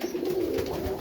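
Pigeons in a loft giving a soft, low cooing call, one near, sustained coo lasting about a second with no talking.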